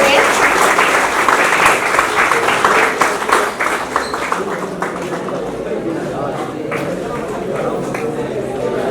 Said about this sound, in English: have a round of applause for our guests, Dr. Guest.